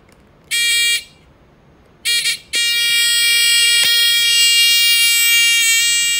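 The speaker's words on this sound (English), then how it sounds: "Buzzer's not moving. Constant sound, constant pitch." A stationary battery-powered buzzer sounds at a steady, constant pitch. Two short bursts give way to a continuous, bright, loud electronic tone that holds to the end, with no talk.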